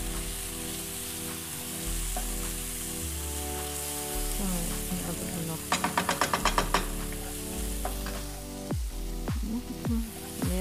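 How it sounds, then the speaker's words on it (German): Curry paste for Thai Pad Prik King with chicken sizzles as it is seared quickly in a very hot pan. The steady frying crackle runs throughout, with a burst of sharp utensil knocks near the end and soft voices underneath. "Das ist ein schnelles Anbraten quasi"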